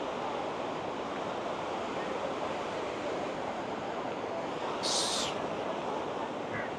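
Waves at Galle Face Beach in Colombo in the evening, a continuous loud wash of surf blended with wind across the mic, with a brief high squeak near the end.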